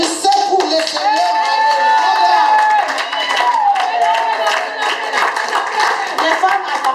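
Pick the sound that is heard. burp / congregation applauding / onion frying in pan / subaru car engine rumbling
congregation applauding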